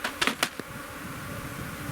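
Bees buzzing steadily around an open hive, a close droning hum with a few louder passes near the start, alone without talk.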